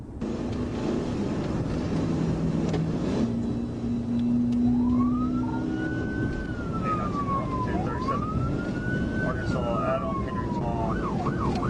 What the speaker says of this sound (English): The trooper activated emergency lights and sirens to initiate a traffic stop